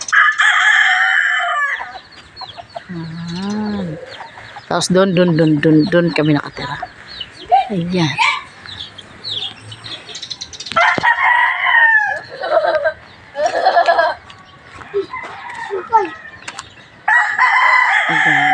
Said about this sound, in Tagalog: At saka ng manok.